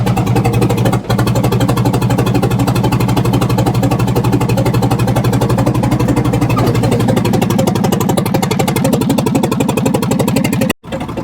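A 1978 backhoe engine runs steadily after its first start in years, a loud, continuous low-pitched diesel chugging with even rhythm close by, briefly cutting near the end.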